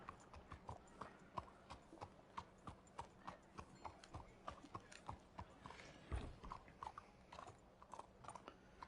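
Horse hooves clip-clop in a steady walking rhythm in the video game Red Dead Redemption II, close and distinct, with light tack and mechanical clatter underneath and a heavier thud near the end.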